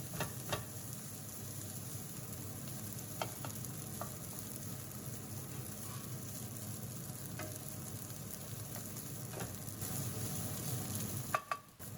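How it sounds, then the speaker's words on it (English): Rice frying in a wok with chicken seasoning, light soy sauce and white pepper, giving a steady close sizzle for the whole stretch, with a few sharp clinks from the stirring utensil scattered through it and no talking. "And stir fry for 3 minutes"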